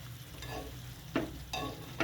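Fried tofu with snow peas stirred in a pan, giving a few brief scraping strokes over a steady low sizzle, close and fairly quiet with no talk.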